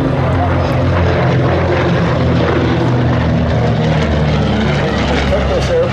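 B-25 Mitchell bomber propeller engines at an airshow, a loud, steady droning roar throughout with a deep throbbing tone, with a voice talking over it.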